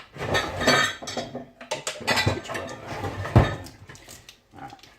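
Kitchen utensils clink and clatter up close as someone rummages through a drawer for measuring spoons, with a steady run of metallic knocks and jangles.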